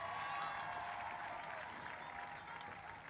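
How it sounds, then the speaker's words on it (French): Church congregation applauding to welcome newcomers, a steady, dense burst of clapping from many hands with no voices over it. "Acclamons tous les nouveaux venus."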